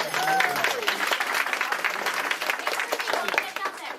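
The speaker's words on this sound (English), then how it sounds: "Give her a round of applause." Applause from a workshop audience fills the room, dense and steady for about four seconds, with a few voices and a brief tone heard over the clapping near the start.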